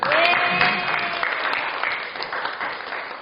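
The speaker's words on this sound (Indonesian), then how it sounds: "Oke, tepuk tangan." A classroom of students claps on cue during an accounting lesson, a lively burst of hands that starts loud and gradually thins out, with a brief voice at the start.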